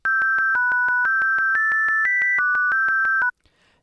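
Sine wave synth melody in FL Studio with its harmony notes set quieter, a run of about eighteen steady, evenly spaced tonal beeps shifting pitch step by step, clear and isolated for over three seconds before stopping.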